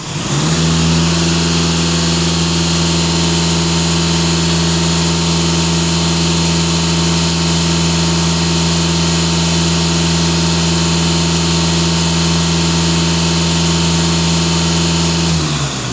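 A Volkswagen Passat B8 engine, nearly warmed up, runs steadily during a diesel particulate filter test. It holds a loud, even drone the whole time with a constant low hum and no clear rise in revs.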